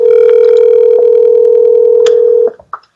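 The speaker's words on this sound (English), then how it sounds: "I believe your phone is ringing." During a council meeting, a telephone gives off a loud steady electronic tone held for about two and a half seconds, then cuts off into a few faint, brief beeps and clicks.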